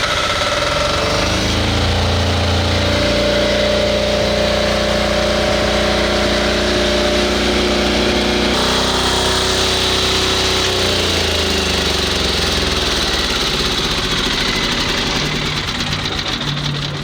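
The generator on a mobile security tower starts automatically and runs, its engine holding a steady, loud, close mechanical drone with a slight shift in tone partway through and no talking.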